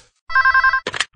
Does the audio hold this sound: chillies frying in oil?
no